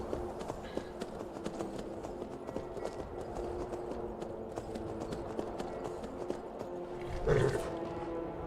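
Horse hooves clip-clop steadily in a Skyrim video game scene, a continuous rhythmic walking beat mixed with ambient game sound and a brief louder swell near the end.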